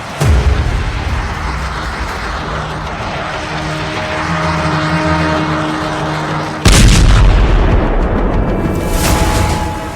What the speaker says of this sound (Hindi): पश्चिमी यरूशलेम में मिसाइल अटैक, तेल अवीव के करीब बेत शेमेश में हमला।